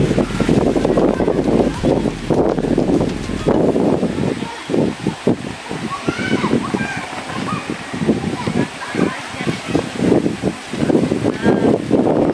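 Strong wind at Daringbadi, Odisha, among pine forest and coffee gardens, buffets the microphone in a steady, roaring rush, with gusty bursts and a voice talking faintly underneath.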